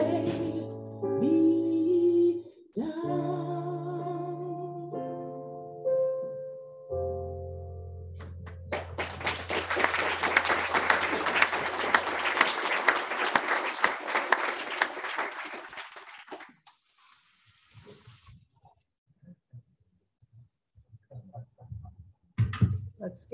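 Music at the MS Evening of Hope benefit ends on sustained notes, then audience applause swells into a broad, steady roar for several seconds, fades away, and gives way to a quiet voice.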